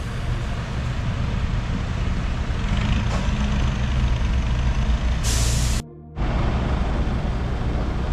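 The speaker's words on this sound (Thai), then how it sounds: "รถสิบล้อรถหกล้อนะครับ มาเข้าคิวนะครับ เพื่อจะรอตรวจสภาพ" Ten-wheel and six-wheel trucks idle in a queue awaiting inspection, a steady diesel rumble broken by a sharp, loud hiss of air brakes releasing near the middle, followed by a brief dropout before the engine drone resumes.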